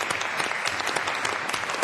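An audience at a school board meeting applauds a student, with dense, steady clapping that fills the room.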